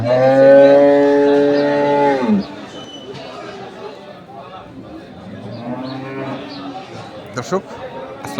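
A dairy cow lets out a long, loud moo nearby at a cattle market in Kaharol, Dinajpur, Bangladesh, followed by a busy murmur of people chatting and a fainter second low call.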